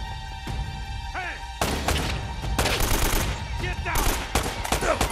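Rifle gunfire in the video game Uncharted: Drake's Fortune, with scattered sharp shots followed by denser rattling bursts over a steady hum, some impacts close and loud.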